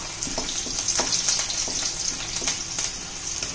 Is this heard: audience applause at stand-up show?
no